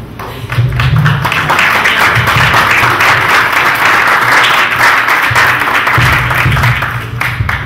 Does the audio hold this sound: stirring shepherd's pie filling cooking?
no